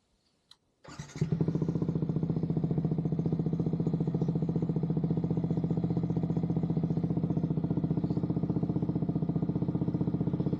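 A Yamaha XSR 155 motorcycle with a new aftermarket muffler starts with a quick crank, then settles into a steady, throaty idle with a deep, even pulse close to the mic.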